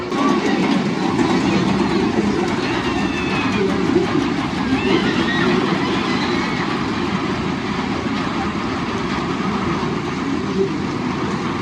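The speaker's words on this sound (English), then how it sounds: "if you see those little teeth on the track like that, those are made specifically so that the train cannot roll back down this hill" Amusement park ride train climbing a lift hill over anti-rollback teeth, a steady loud rumbling and rattling drone that holds without a break from start to finish.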